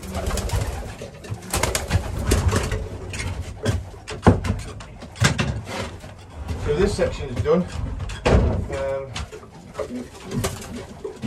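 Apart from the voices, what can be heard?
pigeons cooing in a pigeon loft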